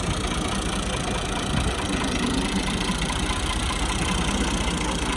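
A Massey Ferguson 260 tractor, 2018 model with its original engine, idles steadily on its own, a loud continuous diesel rumble with a constant low throb and no voices.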